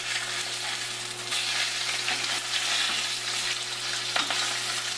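A salmon fillet with herbs sizzling steadily in a hot pan, a dense, close crackle with a few sharper pops and scrapes, and no voices.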